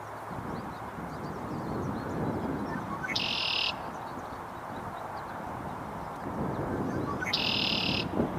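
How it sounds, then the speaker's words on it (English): Red-winged blackbird calling outdoors on a nature tour, two short bright bursts spaced several seconds apart over a steady rumble of wind or distant background noise. "Another red-winged blackbird."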